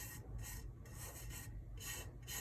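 Glitter being rubbed by hand onto a tumbler coated with double-sided tape, a steady close rasping scrub in repeated strokes of roughly half a second, with no talking.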